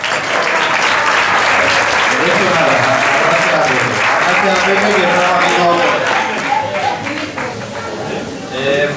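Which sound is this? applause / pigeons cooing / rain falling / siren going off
applause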